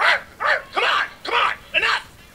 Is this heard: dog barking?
yes